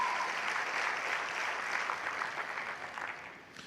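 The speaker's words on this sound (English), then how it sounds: "Give them a round of applause again for their tenacity" Steady applause from an audience at the 2018 graduation of the Virgin Islands School of Technical Studies, a broad, fairly distant wash of many hands that tapers off near the end.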